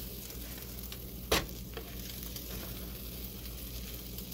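Omelette frying in a pan, a steady soft sizzle throughout with one brief sharp clatter near the start, no voices.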